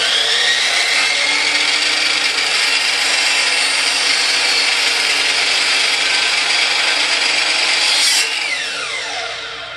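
Power saw cutting baseboard trim at a 2-degree miter for a coped joint, a loud continuous high-pitched whine through the wood that ends with the blade spinning down.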